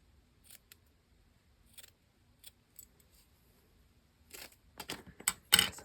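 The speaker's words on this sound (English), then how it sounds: "Do my little scissor thing where I kind of cut and pull at the same time" Scissors cut and pull through paper for a grungy journal tag: a few scattered quiet snips, then a quicker cluster of crisp cuts and rustles near the end, close and otherwise quiet.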